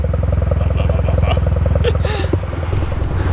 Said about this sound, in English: And RX-7 idle